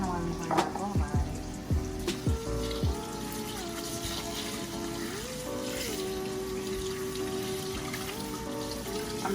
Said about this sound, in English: This is why you always want to wash your rice.